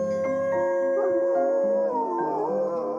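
Several animals howl mournfully in long, overlapping, wavering tones, loud and close, sustained through the whole stretch with no talking.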